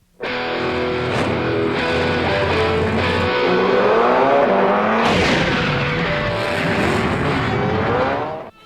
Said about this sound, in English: we're going to get a blast from a 1966 Supernova